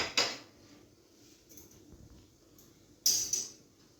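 A metal kadhai wok is set down on a gas stove, giving two sharp metallic clanks with brief ringing, close and fairly loud, separated by quiet kitchen background.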